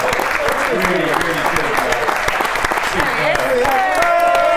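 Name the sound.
applause for the catering team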